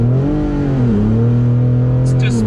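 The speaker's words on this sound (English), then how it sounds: "I'm just going to do one pull here in 4A, and we'll see what kind of 0 to 60 we get." Decatted 2019 Ford Raptor pickup truck launching hard in 4A sport mode, a loud, steady low engine drone with rising harmonics dominating throughout, as wheels spin under traction control, with a brief higher hiss near the end.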